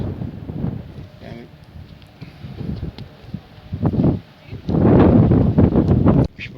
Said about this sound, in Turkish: Rüzgar Bayağı bir sallıyor rüzgar.